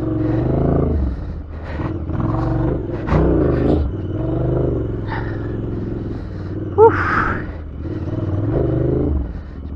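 A heavy Royal Enfield Interceptor 650 Scrambler motorcycle rumbles at low revs while riding off-road, a steady engine drone with gear and terrain clatter, one sharp metallic knock midway.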